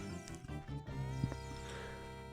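A horse neighs in Zelda Ocarina of Time 3D, a short whinny with a bright squeal, moderately near but fairly quiet, over steady game music.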